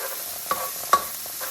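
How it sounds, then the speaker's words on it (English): Eggs being scrambled in a very hot pan for stir-fried rice hiss steadily, with two sharp spatula taps against the pan partway through. "Really, you're just going to scramble them up."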